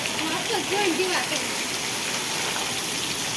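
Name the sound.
heavy rain and strong wind storm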